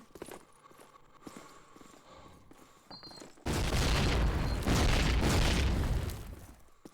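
Grenade explosions on the Germantown map of a competitive multiplayer shooter: after several seconds of quiet, faint in-game clatter, a loud rumbling blast erupts and rolls on for about two and a half seconds before fading out.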